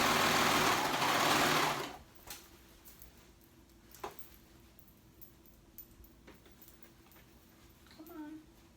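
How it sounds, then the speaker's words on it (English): A sewing machine stitches kids' pants pieces together along their raw edges, running loud and fast for about two seconds before stopping. A few faint clicks and taps follow in the quiet. "I'm sewing it together at the raw edges, making sure all three parts are going in there."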